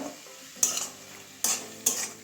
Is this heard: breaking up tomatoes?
yes